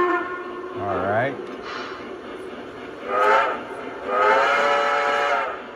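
Sound-unit whistle of a high-end model steam locomotive, sounding in three separate blasts, the first bending in pitch and the last held longest, loud against a low background hum.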